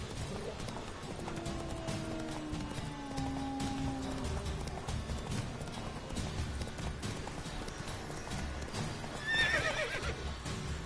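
Roach, the horse in The Witcher, whinnies with rising and falling neighs over a clatter of hooves, and a sharper, higher whinny comes near the end, all set against a busy game background.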